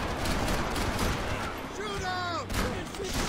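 Rapid gunfire rattles in a third-person shooter game, a dense burst of shots mixed with whizzing, ricocheting effects and a brief pause before the firing resumes.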